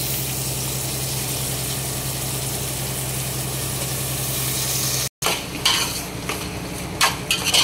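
Minced meat (keema) stirred in a pan over browned onions, a steady sizzle for several seconds, then a short break followed by clattering scrapes and knocks of a spoon against the pan, with no talk.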